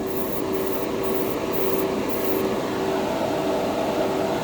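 Steady hissing spray of anodized aluminum paint being applied to a model, a continuous airy rush with a faint tone underneath, close and unbroken throughout.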